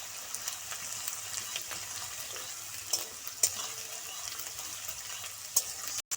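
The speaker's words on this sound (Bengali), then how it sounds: "পেঁয়াজটা আমি 1 মিনিট ভেজে নেবো" Onion paste frying in a pan, a soft, steady sizzle with occasional light scrapes of stirring, fairly quiet and close, no voices.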